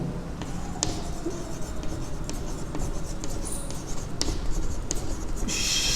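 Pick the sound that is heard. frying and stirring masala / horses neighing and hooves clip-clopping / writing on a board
writing on a board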